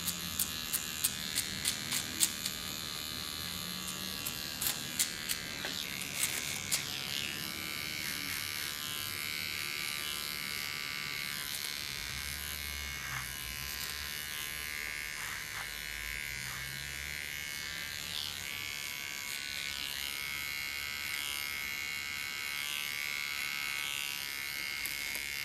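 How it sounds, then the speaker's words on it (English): A small hair clipper contours a woman's short haircut, giving a steady, close electric buzz that runs unbroken for the whole stretch, with a few sharp clicks near the start. "You contour with a small clipper."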